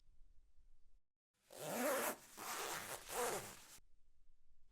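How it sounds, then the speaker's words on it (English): A single zipper is drawn open slowly in a drawn-out rasp lasting a couple of seconds, close and clear against near silence. "Then, we heard it. A zipper. Very slowly."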